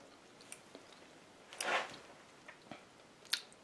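Someone eating a spoonful of crockpot apple crisp, with soft close chewing and a brief crunchy bite in the middle, plus scattered faint mouth clicks in a quiet room.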